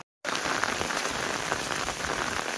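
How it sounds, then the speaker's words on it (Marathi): Heavy unseasonal rain pours down on a flooded goat farm, a dense, steady hiss of rainfall drumming on surfaces that starts abruptly after a brief moment of silence and continues without pause. "कारण सध्या पाऊस पण जबरदस्त चालू आहे."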